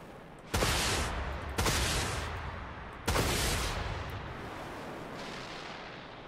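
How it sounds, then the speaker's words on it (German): Heavy warship guns in the space combat game Dreadnought fire three loud, deep booms at uneven intervals, each blast rolling off into a long rumbling tail. "Und das Schießen kann ich auch schon."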